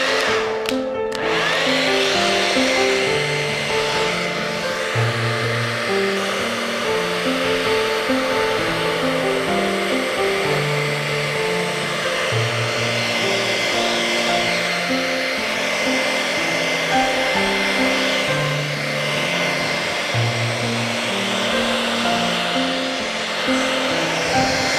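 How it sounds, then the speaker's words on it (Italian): A handheld hair dryer blows steadily, close and loud, while drying paint on a piece of furniture being refinished with an antique look; a constant airy roar runs throughout, no talking. "Ho leggermente asciugato con il phon"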